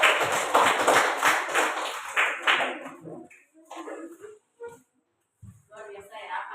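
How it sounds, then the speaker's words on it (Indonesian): An audience in a classroom gives a few seconds of lively, dense hand clapping that dies away, followed by scattered taps and a voice speaking. "Tepuk tangan dulu yang meriah."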